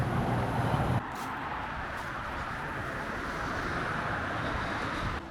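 Road traffic near a river bridge on the River Severn gives a continuous broadband rushing roar, steady and fairly close, with no voices.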